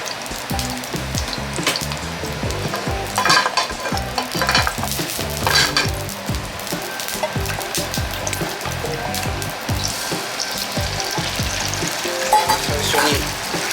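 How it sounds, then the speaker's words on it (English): Egg sizzles and crackles in hot frying oil while being scrambled, with steady loud frying hiss and scraping stirs close by throughout. "First step, to make scrambled egg."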